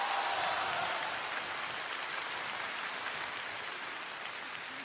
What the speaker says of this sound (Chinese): 掌声欢迎岳云鹏、